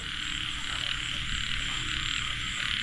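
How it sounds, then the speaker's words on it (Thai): Frogs croak in a steady, dense chorus across a rice field after heavy rain, a continuous layered calling with no talk over it. "นี่เป็นเสียงกบเสียงเขียด"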